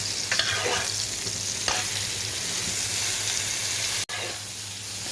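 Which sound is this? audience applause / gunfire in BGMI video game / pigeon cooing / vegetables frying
vegetables frying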